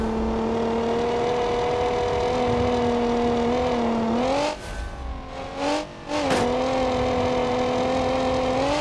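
A derby car in the BeamNG driving game revs hard through repeated takeoffs, engine pitch climbing steadily, dipping briefly as the car goes airborne, then surging again, loud and close with no talk.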